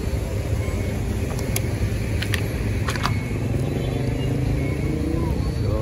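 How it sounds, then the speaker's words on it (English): Road traffic rolls over the Brusubi turntable flyover in The Gambia, a steady wash of passing car engines and tyre noise with a few brief sharp clicks, while a person talks over it. "you can see in front of me, seeing the flyover, cars are flying up and down"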